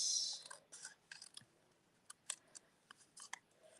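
Scissors snip through stamped and embossed paper in a series of quiet, close, irregular clicks and cuts, each brief and separate.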